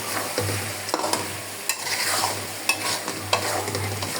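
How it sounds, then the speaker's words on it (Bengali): Duck meat and masala sizzle in oil while a spatula stirs and scrapes them around the pan, giving repeated clanks and scrapes over a constant, close frying crackle. "হাঁসের মাংসটা অলরেডি কষানো অনেকটাই শেষ। সাইডে দিলে যেতে আছে কষানো, তেলটা বেশি উঠতেছে।"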